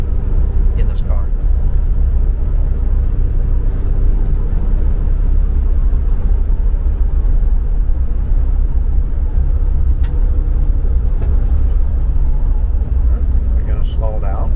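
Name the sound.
1972 Mercedes-Benz 280 SE W108 driving at about 35 mph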